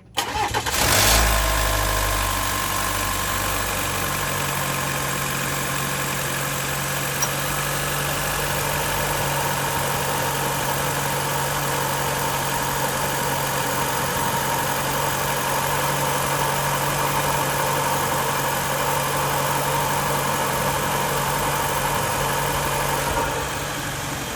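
A 2.7L TurboMax car engine fitted with a cold air intake cranks and catches with a burst, then settles into a steady, close idle that hums on evenly throughout.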